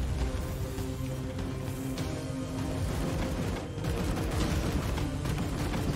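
Gunfire in the turn-based video game Warhammer 40,000: Chaos Gate Daemonhunters, a dense rattling barrage of shots and booms that roars continuously without let-up.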